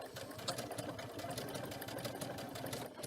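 A home sewing machine stitches appliqué in green thread at a narrow 1.25 mm stitch width, giving a steady, close, continuous mechanical whir with a fast running rhythm and no voices.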